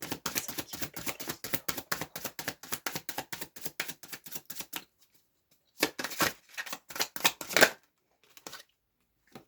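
Tarot cards are shuffled up close in a fast, even run of crisp riffling flicks. A short pause follows, then a second, shorter burst of shuffling and a few faint card taps.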